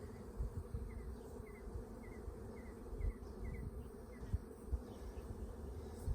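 Low, constant buzzing of a honeybee swarm close by, a dense droning hum with small swells and soft bumps, no voices.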